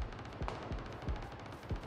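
Gunfire in the battle royale game PUBG, a series of muffled, distant-sounding shots at irregular intervals over a steady background rumble, fairly faint.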